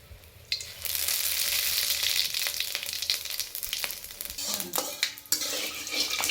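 Dried red chilli and radhuni seeds dropped into hot oil for a kolai shak dish, a loud steady sizzle with some stirring and utensil clinks, no talking.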